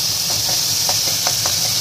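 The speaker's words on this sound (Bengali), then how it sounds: "এবার এই সমস্তটাকে ভালোভাবে একটু লাল লাল করে ভেজে নেব।" An onion mixture fries in a pan with a continuous loud sizzle and hiss, broken by a few soft, regular spatula scrapes and taps.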